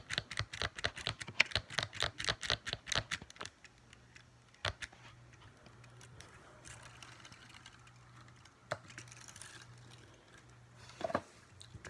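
Keys on a Braille note taker keyboard clatter in a fast, even run of crisp clicks, then slow to a few scattered presses against a quiet, faintly humming background.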